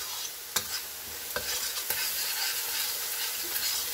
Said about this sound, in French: je vais faire cuire mes épices avec les oignons, l'ail et le gingembre